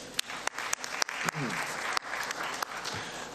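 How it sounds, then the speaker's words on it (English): Applause from delegates at a football confederation general assembly breaks out after a resolution passes, a dense steady clapping with sharp individual claps standing out near the start, lasting several seconds. "Can we clap hands for them?"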